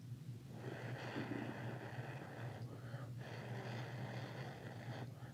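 Steady breath blown onto a lit charcoal hand warmer stick, a close, continuous airy rush over a low hum, with a few stronger gusty puffs toward the middle and end.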